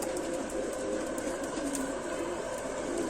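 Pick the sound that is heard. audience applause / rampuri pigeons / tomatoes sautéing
rampuri pigeons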